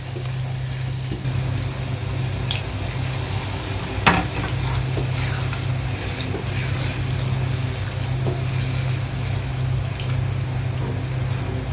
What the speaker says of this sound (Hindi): अच्छी तरह से मिक्स करेंगे दही को।